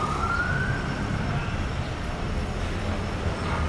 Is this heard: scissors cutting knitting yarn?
no